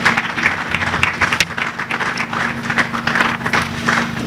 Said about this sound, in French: veuillez applaudir pour les 3 orateurs de ces symposiums